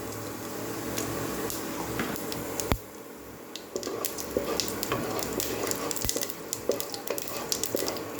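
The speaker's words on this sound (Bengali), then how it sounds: "তেলটা আমার গরম হয়ে গেছে বন্ধুরা। এই যে সাদা জিরে দিলাম।" White cumin seeds sizzle and crackle in hot mustard oil, a steady frying hiss with scattered sharp pops, close and loud, with no voice over it.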